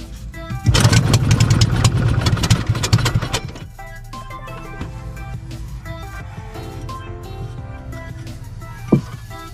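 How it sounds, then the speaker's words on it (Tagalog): Small boat engine with a broken pull-start cord is started by hand, sputtering and revving loudly for about three seconds before settling into a steady, quieter idle with a brief knock near the end. "Para makita nyo rin paano magpantar ng makina ng walang yoyo mga kapard."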